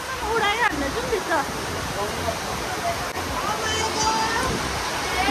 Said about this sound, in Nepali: बारिस।